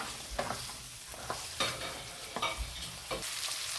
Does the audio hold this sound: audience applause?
no